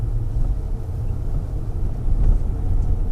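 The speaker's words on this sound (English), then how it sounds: "I'm going to put drive mode into off-road and see what it does" A 2019 Volvo XC40 in off-road drive mode rolls over a rough road, giving a low, steady cabin rumble with bumps and road noise, no voices.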